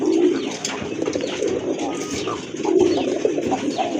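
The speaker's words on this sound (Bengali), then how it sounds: "ভালো মানের এক জোড়া কবুতর, কোয়ালিটি ফুল কবুতর।" A pair of good-quality local domestic pigeons at a large pigeon farm coo steadily, rolling throaty calls repeating close by for several seconds, with a brief pause before resuming.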